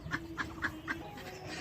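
Hens cluck in a village poultry house, four evenly spaced short calls in quick succession, moderately near, followed by fainter clucks over a low background hum.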